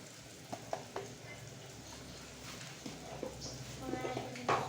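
Salted matki (moth bean) curry being stirred in a pan as it fries in oil, with a soft, low crackle and a few light scraping clicks from the spoon, and a faint voice now and then.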